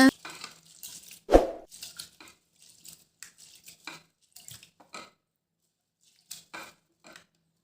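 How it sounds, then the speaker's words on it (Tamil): Basmati rice is washed by hand: intermittent splashing and trickling of water with grains being swished and rubbed, a louder splash near the start, then quieter scattered bursts. "நல்லா இந்த பாஸ்மதி அரிசியை கழுவி எடுத்துக்கலாம்"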